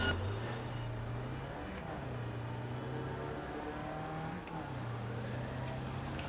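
A car engine hums and revs while driving in the game Cyberpunk 2077, a steady mid-distance drone with pitch swells as the throttle rises and dips.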